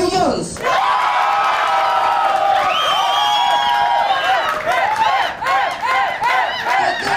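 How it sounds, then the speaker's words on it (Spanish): At an impersonation contest semifinal, a studio crowd roars for a Beyoncé impersonator, with loud whoops and drawn-out cheers over continuous clapping, shouting voices rising in excited bursts throughout. "Ok, fuerte el aplauso para"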